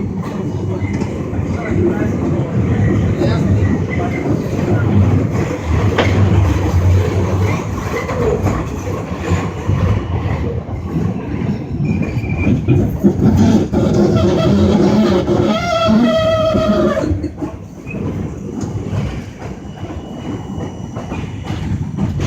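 An M shuttle subway car rides toward Myrtle Avenue/Wyckoff Avenue with a loud, steady rumble and rattle, rhythmic clickety-clack over the rails and brief wheel squeals near the end, heard from inside the car.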